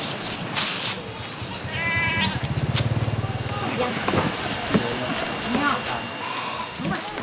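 Goats bleating on an organic farm, a repeated nasal bleat rising clearly near the middle among other farm animal calls, with a voice speaking over the scene.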